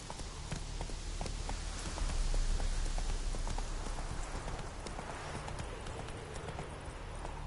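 Hooves of the horse Roach clip-clop steadily at a gallop in The Witcher 3, a quick rhythmic beat close by over a hiss of falling rain.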